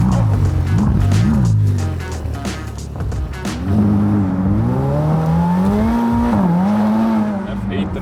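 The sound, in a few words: Ferrari F8 Tributo engine while driving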